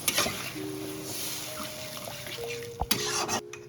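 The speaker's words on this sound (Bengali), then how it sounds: "এবার আমি জল দিয়ে দেব পরিমাণ মতো মাছ অনুযায়ী" Water poured into a pan of spicy tilapia fish curry gravy, a steady soft trickle and swish lasting several seconds, with faint clinks of a utensil near the end and a low steady hum behind.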